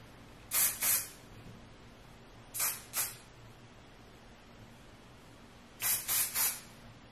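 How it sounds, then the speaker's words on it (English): Stockholm Sweden flexible hair spray is sprayed in three bursts, two quick puffs, another two, then a final run of three short hissing sprays, close and separated by quiet pauses. "the last thing I do is the Stockholm Sweden flexible spray"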